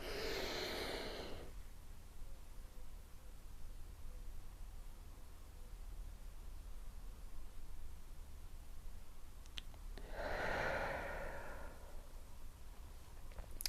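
A deep, airy inhale during a lymphatic drainage workout, heard once near the start and again about ten seconds later, close to the microphone and soft, with quiet hiss between breaths.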